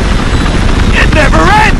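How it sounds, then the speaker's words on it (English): Loud, close helicopter in the war video game Army of Two: The 40th Day, a steady heavy rotor roar filling the whole stretch, with a voice briefly heard over it. "The chopper's landing."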